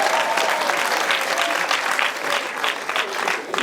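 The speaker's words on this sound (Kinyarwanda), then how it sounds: "Bagukomera amashyi abantu badafite ishyari mama." Steady applause from a wedding crowd, many hands clapping in a thick continuous patter that stays loud and close throughout, with faint voices mixed in.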